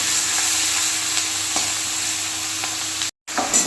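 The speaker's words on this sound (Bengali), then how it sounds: "তেলটা গরম হয়ে গেছে, এখন চিংড়ি মাছগুলো দেবো।" Prawns fry in hot oil in a home kitchen with a loud, steady, close sizzle that holds level throughout. Faint stirring scrapes come through now and then.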